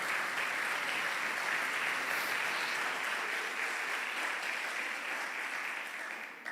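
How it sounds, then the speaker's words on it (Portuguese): A church congregation claps loudly and continuously in a dense, sustained burst of applause that tapers slightly at the close, with no voices on top. "Se vai aplaudir, então aplauda bem forte."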